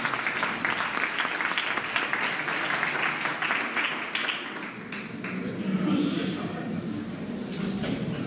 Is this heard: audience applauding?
yes